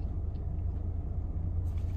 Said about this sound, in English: The car's on.